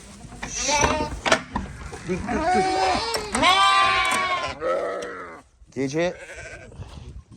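Several Haymana Karası sheep and lambs bleat loudly and repeatedly at night, close by, with a person talking briefly among the calls.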